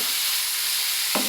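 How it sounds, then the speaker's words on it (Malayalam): Prawns frying in a pan on the stove, a steady, close sizzling hiss that continues without a break, with a brief clatter near the end. "നമ്മൾ ചെമ്മീൻ പൊടി ഉണ്ടാക്കണ്ടേ, അതിന് ചെമ്മീൻ അത് വറുത്തെടുക്കണം."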